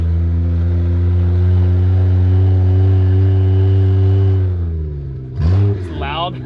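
A Jeep SRT8 engine drones in a deep, loud sustained rumble, then drops off and snaps through a couple of sharp revs at the end, close to the microphone.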